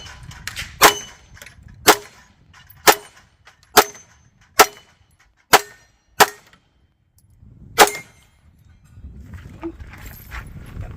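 A Glock pistol fitted with a marksman barrel and night vision sights fires about eight sharp shots at a steady pace, each one ringing off steel targets with a bright clang, then quiet with faint movement.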